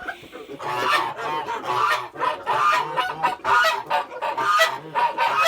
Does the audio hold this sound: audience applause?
no